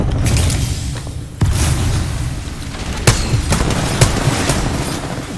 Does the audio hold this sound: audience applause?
no